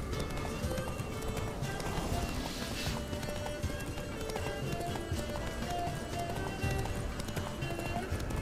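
Geralt's horse gallops at speed in The Witcher 3, a steady drumming of hooves under a dense wash of wind, music and ambient game noise, with a brief whinny-like swell partway through.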